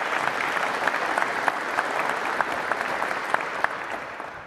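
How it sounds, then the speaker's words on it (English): A crowd of Marines and guests applauds the band at a Marine Corps squadron relief and appointment parade ceremony, a steady, even wash of many hands clapping from a moderate distance with no pause. "We all have a round of applause for the band coming today."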